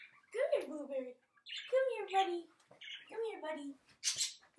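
Pet bird squawking close by indoors, three harsh, raspy calls spaced about a second apart, followed by a short sharp burst at the end.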